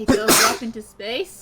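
A sharp human sneeze bursts out near the mic, right in the middle of excited conversation, with voices talking before and after it.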